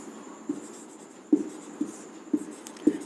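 Chalk or marker taps and short strokes as numbers are written on a board during a maths lesson, five soft, separate marks spaced about half a second apart against a quiet room.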